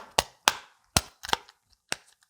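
A pop it fidget toy is pressed, giving about six sharp, crisp pops at irregular intervals, close and clear, with faint small clicks between them and no talking.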